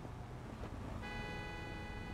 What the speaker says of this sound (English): I'm going to take care of that while I'm getting honked at, which is totally and utterly rude